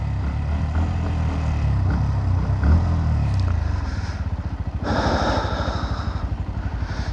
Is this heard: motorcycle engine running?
yes